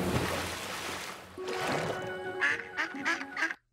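A cartoon duck quacks in a quick burst of several nasal, squawking calls near the end, preceded by splashy cartoon noise and music.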